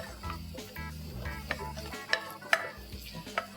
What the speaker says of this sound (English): And just continue to constantly stir this till they caramelize slightly.